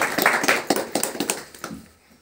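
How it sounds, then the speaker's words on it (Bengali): Brief round of audience applause at a PUC program event, a cluster of sharp hand claps that starts strong and thins out over about two seconds before fading away. "তার জন্য আমাদের টিসিজির জন্য একবার হাততালি আমি চাইব"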